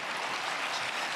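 A church audience at a Wednesday prayer meeting applauding, a short steady burst of many hands clapping, full and close, with no talking over it.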